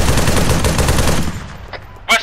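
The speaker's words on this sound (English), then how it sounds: "see where I'm shooting?" Rapid automatic gunfire rattles loudly in a military shooter video game, a dense burst that fades over a second and a half, followed by a brief sharp shot near the end.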